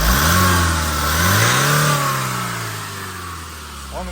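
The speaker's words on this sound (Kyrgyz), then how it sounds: "мотор сонун болуп иштеп турат" Manual 2019 Hyundai Porter light truck engine running close by, rising into a couple of steady revs then settling back toward a lower hum, loud and continuous with no talk.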